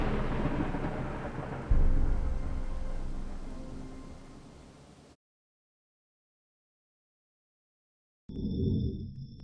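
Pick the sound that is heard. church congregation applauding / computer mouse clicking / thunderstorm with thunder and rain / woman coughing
thunderstorm with thunder and rain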